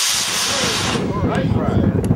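Model rocket lifting off on two D12-5 motors, a loud broadband roaring hiss that cuts off after about a second and fades into quieter rumbling and crowd noise outdoors.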